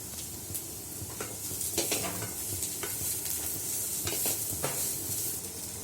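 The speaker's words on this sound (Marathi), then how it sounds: "इथे आपल्याला भाज्या प्रॉपर शिजवून नाही घ्यायच्या, फक्त 2 मिनिटं टॉस करायच्या आहेत" Mixed vegetables for a soya chilli are tossed and stir-fried in a hot pan, giving a continuous sizzle broken by sharp scraping clinks of the utensil against the pan at an irregular pace.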